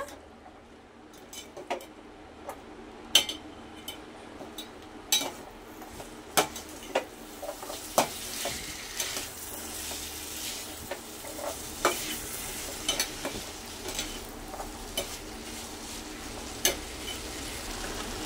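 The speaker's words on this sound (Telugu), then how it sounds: "వేసేసి ఒక 2 minutes పాటు ఇలా కలుపుతూ ఉండాలి. మంచిగా వేయించాలి బఠానీలు కూడా." Soaked, boiled green peas are stirred and fried in a pan for a couple of minutes: a steady sizzle runs throughout, broken by frequent sharp scrapes and clinks of a spoon against the pan.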